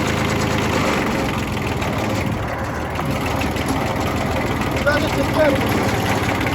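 An engine idles steadily during work on a low-pressure fuel pump and high-pressure pump fittings, a close continuous rumble with a rough pulsing texture while people talk nearby.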